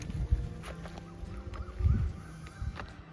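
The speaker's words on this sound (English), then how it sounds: "Got some chickens over there." Chickens at a Buddhist temple in Ayutthaya cluck in short, uneven bursts, several low calls close by against a quiet outdoor background.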